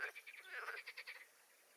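Frogs croak in a rapid pulsing chorus at night, a steady train of rasping calls that fades out after about a second and a half, moderately faint with no talking.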